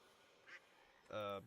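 A duck quacks in the video game Hytale, a short burst of loud, harmonic quacking that stands out sharply after a faint, brief call and soft background ambience.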